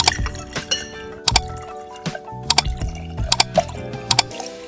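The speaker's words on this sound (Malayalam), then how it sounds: "ഇനി നമുക്കിതിനകത്തോട്ട് വാട്ടർമെലൺ ജ്യൂസ് കുറച്ചൊഴിക്കാം" Filtered watermelon juice pours into a glass with liquid splashing, mixed with sharp clinks of glass and spoon and brief wet squishes, close and fairly loud in short bursts.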